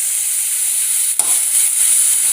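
Beetroot chutney ingredients, seasoned with salt and a pinch of asafoetida, sauté in a pan with a loud, steady, bright sizzle and one brief clack of a spoon or pan partway through.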